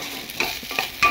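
Maggi noodles tossed with masala in a pan, a brief burst of stirring with a few quick scrapes over a soft sizzle, close by.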